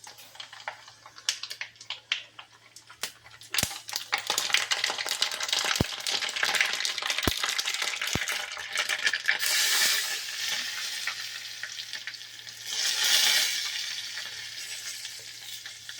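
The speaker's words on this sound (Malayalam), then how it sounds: "കടുകിട്ടു" Mustard seeds crackling in hot sesame oil in a small pan, starting quiet, then a burst of sharp pops and spattering that swells into dense crackle with a loud flare near the end, close and without talk.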